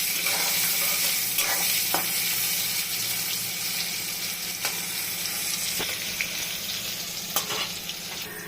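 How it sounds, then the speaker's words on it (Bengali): Eggplant frying in oil with salt and turmeric gives a steady, fairly loud sizzle throughout, broken by occasional sharp spatters and clicks of a utensil in the pan. "দিয়ে সুন্দর করে বেগুনটাকে কড়া করে ভাজবো"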